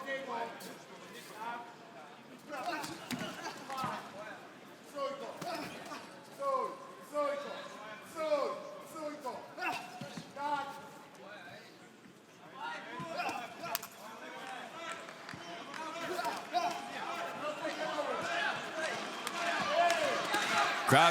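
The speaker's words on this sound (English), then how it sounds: "you can hear these two trading heavy shots in there" Two kickboxers in a ring in Vilnius landing heavy strikes, a run of sharp thuds and slaps in irregular bursts, heard under constant commentary and crowd murmur that swells toward the end.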